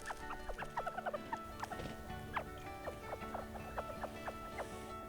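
Many quail in an aviary enclosure of about 200 birds, at the Medicine Park Aquarium & Natural Sciences Center, give a busy scatter of short, sharp chirps and squeaks, some close and some farther off, over soft background hum.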